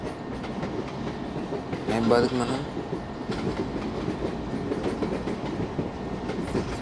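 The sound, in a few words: Kakatiya Express train running in Trainz Android video game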